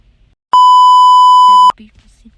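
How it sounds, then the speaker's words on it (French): A loud, steady censor beep lasting just over a second cuts over speech, with brief muffled talking before and after. "je vous laisse avec notre conversation bipée"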